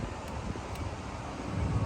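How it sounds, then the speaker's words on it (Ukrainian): Steady, strong wind buffets the microphone, a dense rushing roar with low rumbling gusts that swell slightly toward the end. "У нас такий сильний вітер."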